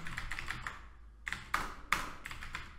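Fingers type on a computer keyboard while writing CSS grid code, with quick bursts of close, crisp key taps, a brief pause, then sharper isolated strikes and more rapid typing.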